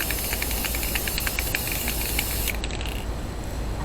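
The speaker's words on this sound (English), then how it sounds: "So I'm going to spray it again," A steady hiss of aerosol sealant spray on inkjet water slide decal paper runs almost continuously, close and fairly loud, with faint clicks and mechanical rattles beneath it.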